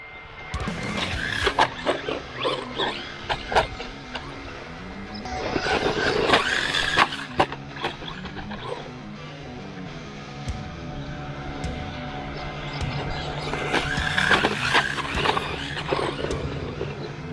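A KFPLAN KF18 RC monster truck runs on a sand track, its electric motor whining and rising in bursts with scrabbling tires, the loudest runs around the middle and near the end, with no talk over it.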